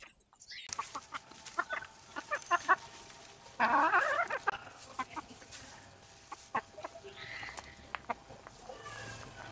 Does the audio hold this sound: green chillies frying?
no